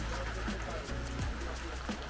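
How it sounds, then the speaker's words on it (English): Steady rain falls during a move into a long-term rental in Montezuma, Costa Rica, a continuous close hiss of drops on surfaces with faint voices and movement underneath. "It's raining right now, but it doesn't matter."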